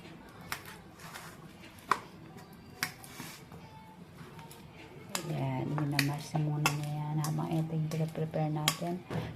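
Ripe bananas mashed in a bowl for a no-bake banana loaf, with a utensil tapping and scraping the bowl in irregular clinks; steadier tonal sound joins in the second half.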